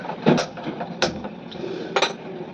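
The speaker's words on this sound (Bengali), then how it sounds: "রুটিটা ভেজে নিই, চাটুটা বসিয়ে দিই" An iron tawa pan set down on a stove for cooking roti, giving a few sharp metallic clanks and clinks close by, spaced out over a couple of seconds.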